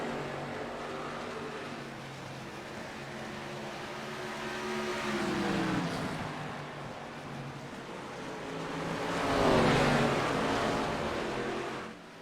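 A sim-racing ARCA Series race car at Iowa Speedway spins out on the front stretch, its engine droning steadily with pitch sweeps that swell louder twice amid other passing cars.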